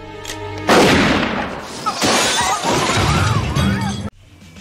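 Gunfire erupts during a bank robbery in a western film, with a sharp shattering crack followed by a loud, chaotic burst of shots and crashing debris that cuts off abruptly near the end.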